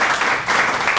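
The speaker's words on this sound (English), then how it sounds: "How a big round of applause for our folks from Optima Health." A round of applause for guests from Optima Health at an Old Dominion University football press conference, a dense, steady clapping from a small gathered group filling the short moment, close and fairly loud with no talk over it.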